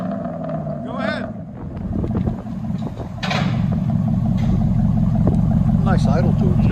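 A car with a true dual exhaust idles with a deep, steady low rumble that grows louder partway through, while people talk over it nearby.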